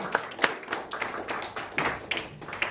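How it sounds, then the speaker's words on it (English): An audience at a university talk claps in a moderate, uneven burst, with individual hand claps audible and spaced irregularly rather than forming a dense roar. "A big round of applause for them."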